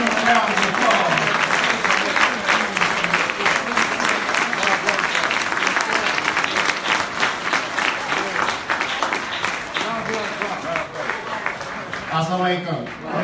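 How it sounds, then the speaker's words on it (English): A large audience at a mosque gathering applauds a Brooklyn representative, dense sustained clapping close and loud, thinning slightly before a voice begins near the end. "Let's give him a round of applause."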